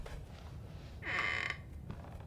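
A door creaks open in the Outlast horror game, a single drawn-out creak of about half a second rising over a low, steady background rumble.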